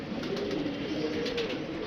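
A pigeon brought from Kuwait, kept for pigeon flying, coos softly at close range: a low, continuous rolling murmur against quiet background noise.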